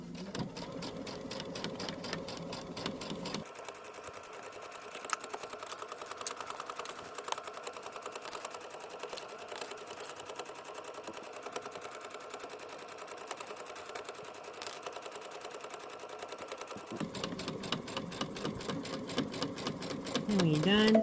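A sewing machine back stitching runs in a quiet, continuous mechanical whir and rapid needle tapping for about twenty seconds, its tone shifting noticeably in the middle section before returning, heard close but faint.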